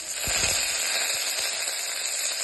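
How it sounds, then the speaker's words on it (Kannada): Mustard seeds, onion and curry leaves sizzle in one or two spoons of hot oil for a beetroot and carrot saagu, a steady close hiss with a few sharp pops near the start and no talking. "ಈರುಳ್ಳಿ ಕರಿಬೇವು ಹಾಕ್ತಾ ಇದ್ದೀನಿ."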